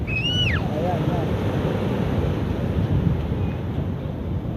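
Ocean waves wash onto a beach in a steady roar, with wind buffeting the microphone and a child's brief high squeal near the start.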